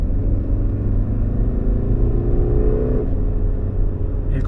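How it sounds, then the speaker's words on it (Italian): A BMW 520d Touring xDrive diesel estate in Sport mode accelerates, its engine rumbling steadily and loud from inside the cabin, with the pitch climbing through the revs before easing back near the end. "adesso io accelero"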